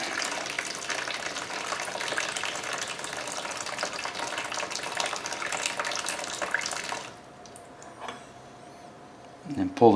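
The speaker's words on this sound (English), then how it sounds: "Just let the water drain." Water drains steadily out of an opened Viqua UV water purifier housing, a continuous splashing rush that stops abruptly partway through, followed by a few quiet clicks and handling knocks.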